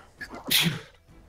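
A single short, sharp human sneeze, close and loud, with a quick intake of breath before the burst.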